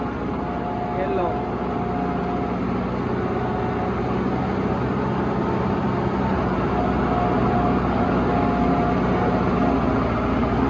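A new Mahindra Novo 755 DI 4WD tractor engine runs with a steady, continuous low rumble at constant speed, fairly close and moderately loud throughout.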